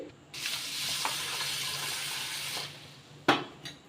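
Pearl millet washed with water in a bowl, a steady rushing pour of water for a few seconds followed by a couple of sharp splashing swishes.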